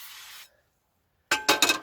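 Short bursts of cooking oil from a spray can hit camp cookware: a brief hiss, a pause of silence, then several quick sharp sprays in a row, close and clear.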